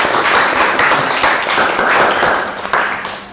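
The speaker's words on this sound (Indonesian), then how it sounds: "aplaus sekali lagi untuk kelompok" A classroom group gives a round of applause for group 3, loud and sustained clapping from many hands, fading slightly toward the end.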